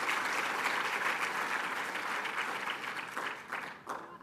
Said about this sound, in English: Please let's give her another round of applause.